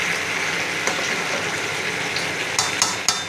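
Mixed vegetables with raw mung dal cooking in a pan, a steady close sizzle and bubbling hiss, with a few sharp clinks of a spatula or utensil near the end.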